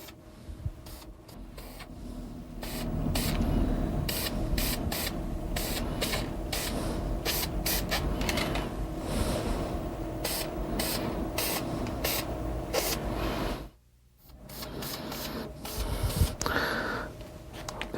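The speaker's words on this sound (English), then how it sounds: "So I just take the spray paint and just spray them up." White spray paint hisses from an aerosol can in steady, sustained bursts over about eighteen seconds, close and fairly loud, with one brief pause near the end before spraying resumes.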